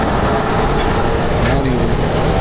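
Oilfield big rig truck driving over a rough road, with a loud, continuous rumble and rattling of the cab and body close by.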